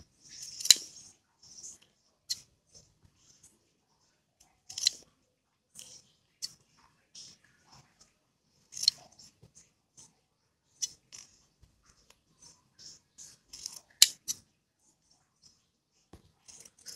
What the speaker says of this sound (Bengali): এখন এটা আমি কাটবো।